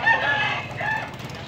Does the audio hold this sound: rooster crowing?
yes